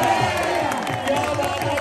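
A dense crowd at a village kabaddi match in Daska, Pakistani Punjab, roars and cheers continuously at close range, with a loud voice riding on top of the noise.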